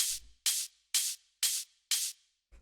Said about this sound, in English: first thing here is the open hi-hat